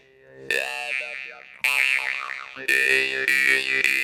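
A Yakutian khomus jaw harp by Burtsev twangs in four separate plucked phrases. Each has a buzzing drone and shifting, vocal-like overtones, heard up close with nothing else.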